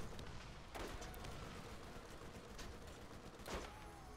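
Faint, spaced single gunshots from a slow-firing weapon in Borderlands on PC, a few separate booming reports standing out over a low game background.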